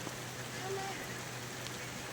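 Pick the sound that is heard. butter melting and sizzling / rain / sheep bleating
rain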